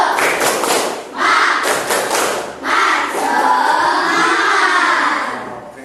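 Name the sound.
class of children doing a rhythmic spirit clap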